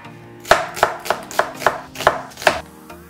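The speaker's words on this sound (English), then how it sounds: "Cut the onions appropriately." A knife chops onions on a cutting board for a bulgogi sandwich, giving eight crisp, evenly spaced strikes about a third of a second apart, close and clear with no talking.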